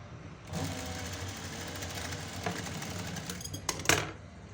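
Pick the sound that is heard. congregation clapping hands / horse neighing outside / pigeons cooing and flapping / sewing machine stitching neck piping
sewing machine stitching neck piping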